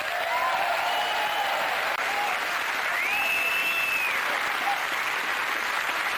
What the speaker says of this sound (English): Please give a big round of applause from British soil and American comic Kit Holliback.